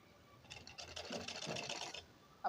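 A sewing machine stitches around the neckline of a lined blouse in one short, soft run of rapid whirring that starts and stops, faint and close with no speech.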